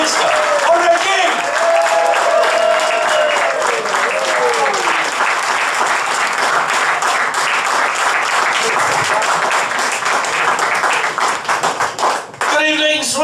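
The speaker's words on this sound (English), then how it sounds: "start your applauding and clapping now" A comedy club audience in Swindon applauds and claps steadily, a dense sustained wash of hands that runs unbroken for the whole stretch and tapers near the end, with a voice briefly audible over it early on.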